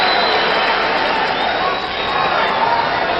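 A boxing-event crowd greeting Muhammad Ali with a loud, continuous wash of applause and cheering that stays steady and dense from start to finish.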